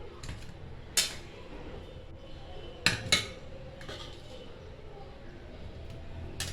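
Fish curry gravy is served onto a plate in a home kitchen. A few sharp metal-on-plate clinks ring out, one early and a quick pair later, over soft background noise while someone talks.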